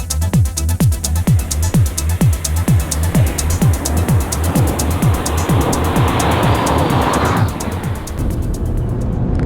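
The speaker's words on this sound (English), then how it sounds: "The wastegate chirps and whistles" A 335bhp Ford Fiesta ST HP300 engine with repeated turbo wastegate chirps and whistles, a rhythmic series of sharp flutters over steady engine drone, then a rushing hiss near the end.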